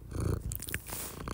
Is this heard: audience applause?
no